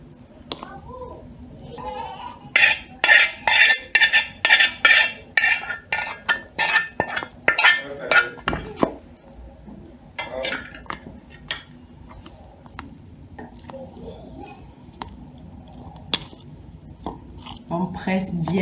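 Cooked, dried carrots are pressed through a strainer to squeeze out homemade carrot oil. A run of rhythmic squelching, scraping presses sounds close up, followed by scattered clinks, with a person talking over parts of it.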